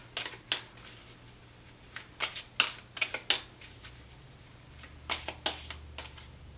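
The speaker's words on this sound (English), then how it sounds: "One more shuffle and I'm going to take the bottom card." A tarot deck being shuffled in hand, quiet riffling bursts of cards recurring in an irregular rhythm over a low background hum.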